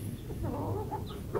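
Chickens cluck and rustle continuously at close range while feeding on spinach in a village cage, a steady busy flock murmur with no voices.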